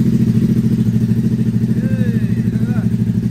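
A 2022 Euro5 Ducati Hypermotard 950 SP motorcycle engine running right after starting, a loud close rhythmic throbbing idle with steady pulsing beats, with a brief voice heard over it.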